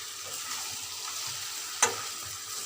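Potatoes fry in a pan of spiced, well-sautéed curry base in a home kitchen, a low steady sizzle with one sharp clatter midway, no talking.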